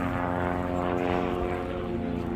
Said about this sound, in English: the only way in or out is a little plane like that on skis